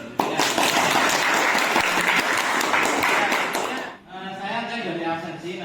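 A class claps together for about four seconds, a dense burst of applause close by. It cuts off abruptly, and a voice starts speaking.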